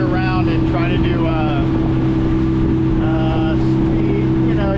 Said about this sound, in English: So right now I'm motoring across the lake again against the wind.